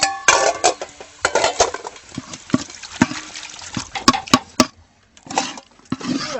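Dishes and pots being washed by hand, with repeated clinks and clatters of metal and crockery, some splashing water, and short pauses between bursts of handling, close and fairly loud.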